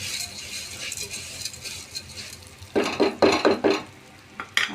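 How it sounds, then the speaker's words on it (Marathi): Lentils (dal) sautéed in a pan for phodniche varan: a quiet sizzle, then several quick, close scraping and clinking stirring strokes. "थोडीशी डाळ परतून घेते।"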